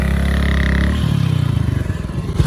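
A motorcycle stuck in river sand on the bank of the Chenab River revs hard and close, its engine throbbing in fast pulses while the wheel churns and clatters.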